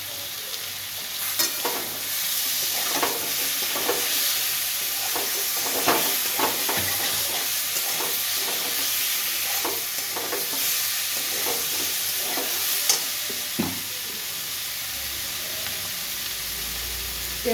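Cumin, coriander and chilli powder fry in hot oil with green chillies for a papaya, potato and fish-head curry, a loud, close, steady sizzle punctuated by repeated stirring scrapes of a spoon in the pan.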